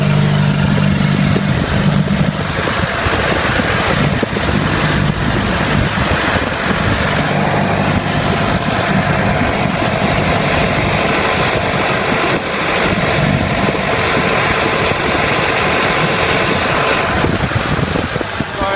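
An International 5000 windrower's engine runs steadily after start-up. It gives a continuous loud mechanical drone with a low rumble that stays fairly even across the clip, and no one speaks.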